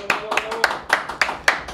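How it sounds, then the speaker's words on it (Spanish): A handful of people clap in a small studio setting, sharp close individual claps in an uneven rhythm, with a faint voice briefly underneath. "Un aplauso,"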